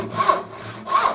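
A premium handsaw cuts through wood in two steady rasping strokes, close and fairly loud, with a brief pause between them.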